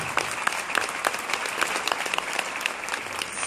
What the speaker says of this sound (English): So can we all please give everyone a round of applause?